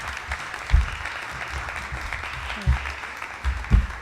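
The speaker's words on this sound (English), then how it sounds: "You can applause now if you'd like" An audience at a 2016 Collier County Commission Republican candidate forum applauds after the forum ends: a steady wash of clapping with a few heavier thumps, and some voices mixed in.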